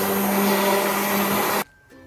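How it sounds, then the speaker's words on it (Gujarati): A hand blender whirs steadily and loudly through rava dosa batter, a continuous motor drone that cuts off abruptly near the end, leaving a brief quieter tail. "હવે આને આપણે બ્લેન્ડર કરીને અને સરસ રીતે મિક્સ કરવાનું."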